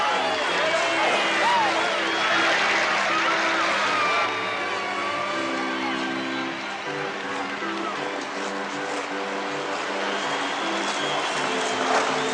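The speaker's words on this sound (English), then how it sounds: "They're getting a good round of applause from their own booster club" A visiting team's booster club applauds at an ice hockey rink in Peterborough, a broad wash of clapping over arena noise and a steady hum, continuous and fairly loud throughout.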